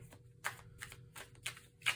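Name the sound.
shuffling tarot cards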